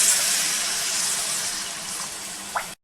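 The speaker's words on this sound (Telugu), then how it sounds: "తగినంత నీళ్లు పోసుకుందామండి." Water pours steadily into a pot of spiced mutton curry, a close, continuous splashing hiss that stops abruptly near the end.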